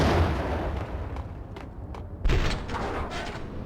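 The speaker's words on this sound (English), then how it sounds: "Did you just throw a grenade at me?" A grenade goes off in the video game Max Payne 3, a loud booming blast with rumbling aftershock, alongside other gunfire-like bursts.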